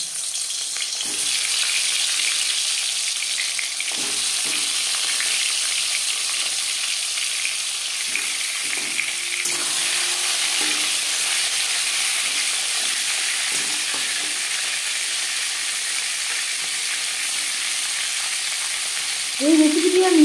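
Steady, close sizzle of snakehead fish frying in hot refined oil, a continuous bright hiss that holds for about twenty seconds with no talking, and a brief clatter right at the end.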